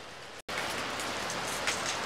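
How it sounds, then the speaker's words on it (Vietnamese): Heavy rain pours down in a dense, steady roar, broken once by a brief cut of silence before the downpour resumes, close and loud. "Tự nhiên đang nói chuyện với mọi người cái mưa quá trời mưa luôn."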